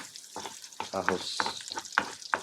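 Garlic fries in a hot pan while a utensil stirs it, giving rhythmic bursts of crackling sizzle and scraping strokes, close and fairly loud.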